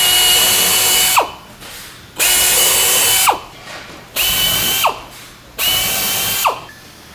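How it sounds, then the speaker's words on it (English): A power drill bores out the center hole in a side panel of a Comfort XL unit, running in four steady high whining bursts about a second long, each ending with a drop in pitch and a pause, close and loud. "Drill the center hole out."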